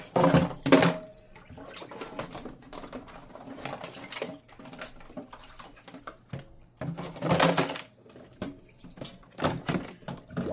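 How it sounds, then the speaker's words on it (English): Plastic containers washed in a clogged kitchen sink with Dawn dish soap, irregular splashing water and hollow plastic clatters in uneven bursts close by, with no one speaking. "These plastic containers we gotta wash."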